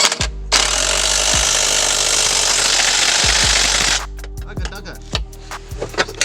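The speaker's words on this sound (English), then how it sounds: "It's already starting to tighten up the bolt." Power tool, likely an impact wrench, tightening a bolt on a Lexus IS300 Y-pipe in a loud continuous burst of hammering for several seconds, then stopping, followed by scattered clanks and rattles.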